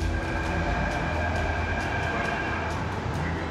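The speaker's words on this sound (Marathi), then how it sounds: "मुंबईच्या मेट्रो 1 मार्गावर अगदी शांतपणे प्रवाशांच्या सेवेत तितक्याच तत्परतेने धावणारी मेट्रो ट्रेन" A Mumbai Metro Line 1 train runs along the track between Ghatkopar and Andheri, a steady rumbling roar with a rhythmic rail clatter and faint metallic whine, heard close and continuous without any voices.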